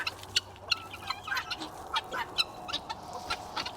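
Guinea fowl and chickens call in a farmyard, a run of sharp, repeated clucks and squawks coming in quick, uneven bursts against a low background hum.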